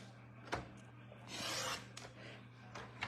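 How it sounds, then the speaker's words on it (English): Paper trimmer's cutting blade slicing through cardstock, a soft, quiet scraping swipe of about half a second in a hushed room, with a few faint taps around it. "I am cutting. So I need my cutting blade."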